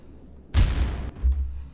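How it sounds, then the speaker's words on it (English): Two deep, booming blasts a moment apart, each a loud burst that rumbles briefly before fading into low background noise. "we are looking for when the sound effect happens and then lining up the explosion with it"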